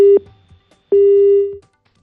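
A telephone line tone during a failed call to a reporter: a short beep, then a longer steady electronic tone, clean and loud with a faint low hum between.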